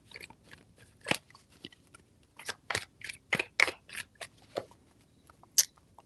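A deck of tarot cards is shuffled by hand in several quick crisp riffles and snaps, close and fairly loud against near silence.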